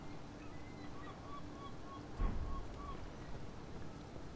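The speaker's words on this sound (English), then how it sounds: "Birds." Geese honking outdoors in real life, a series of faint, distant calls spread through the moment over a steady background hum, with a louder bump partway through.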